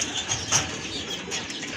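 Domestic pigeons give soft, brief cooing calls at close range, with a little rustling of the birds and no talking.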